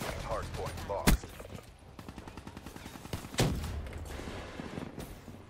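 Bursts of light machine gun fire on the Nuketown map in Black Ops 3, two sharp loud shots standing out over a steady rattle of further gunfire and game noise, with someone talking throughout.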